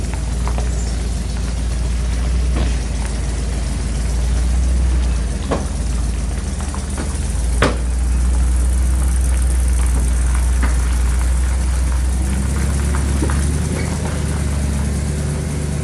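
A Belarus 3045 tractor runs with a steady low engine rumble that holds throughout and stays fairly loud and close, with a few knocks and clatters on top as it pulls away.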